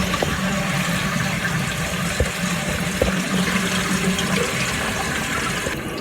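A concealed cistern toilet flushes with a loud, close rush of water pouring steadily for several seconds. A couple of faint clicks come through, and no one talks.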